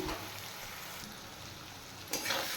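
Previously fried potatoes cook lightly in a pan with rohu fish, making a soft, continuous sizzle, with a brief louder stirring rustle near the end.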